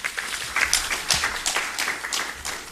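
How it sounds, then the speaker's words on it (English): Audience applause fills a launch event for the Stockholm +50 consultations in Uganda, a steady wash of many hands clapping at close range with no voices standing out. "Let's give the PS a more round of applause."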